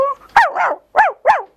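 A human voice imitates a bigger dog barking, giving four short, loud, close barks in an uneven rhythm with no other sound around them.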